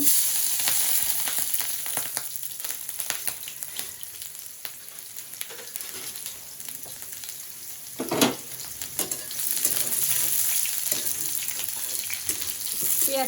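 Fish fries in very hot oil in a home kitchen, giving a continuous crackling sizzle with occasional louder spits and stirring scrapes, close by and steady throughout.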